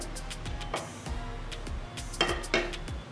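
A metal spoon clinks and taps against a pan several times in quick, close, fairly quiet knocks while ghee goes into it, with a low steady hum underneath.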